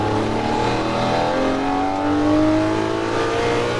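A Lamborghini Murcielago LP640 pulls hard at full throttle on the Las Vegas Speedway, its engine note climbing steadily in a loud, close, continuous roar with no talk.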